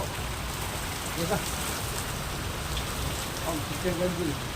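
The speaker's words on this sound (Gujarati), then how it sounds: "જુઓ નવો નવો વરસાદ આવ્યો" Steady monsoon rain falls throughout, a dense hiss of drops on surfaces, with faint voices murmuring briefly in the background.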